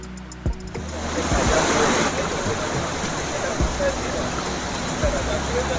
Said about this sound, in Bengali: আর এখন আমরা রয়েছি হুদুদি ওয়াটারফলসের ঠিক উপরে।